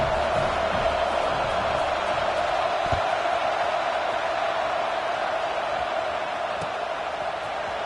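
A stadium crowd at a college football game, a steady, loud, far-off roar of murmuring and cheering that fills the whole stretch, with a commentator's voice at times.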